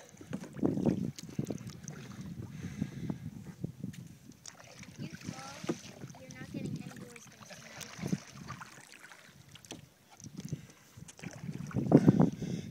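A kayak is paddled one-handed on a guided tour through Rookery Bay near Naples, Florida, with soft splashes and water swishes under wind noise and intermittent voices.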